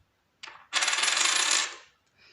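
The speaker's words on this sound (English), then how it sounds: "Everyone loves it when I throw these 1/4 ounce coins around." Quarter-ounce gold Britannia coins tossed onto a pile, a short clink followed by a bright, sustained metallic jingle as they settle and ring, close and alone.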